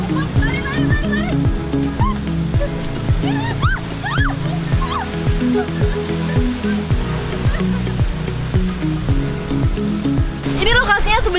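Big sea waves roll onto the shore along the Tatar Sunda coast, a continuous rushing, splashing roar under people talking nearby.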